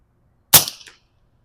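A single sharp crack from a Barra 250Z .25 caliber PCP air rifle, loud and close, followed by a brief decaying ring in otherwise near silence.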